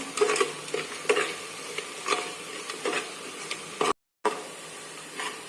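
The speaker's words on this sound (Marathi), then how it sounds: "आणि व्यवस्थित असं परतून घेणार आहोत अजून एकदा।" A spoon scrapes and stirs through mutton biryani masala with added salt in a pressure-cooker pot, giving repeated rhythmic scraping strokes over a soft sizzle, close and fairly loud, with a brief dropout near the end.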